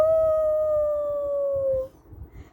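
A single long, clear howl that slowly falls in pitch before cutting off, followed by low rumbling background.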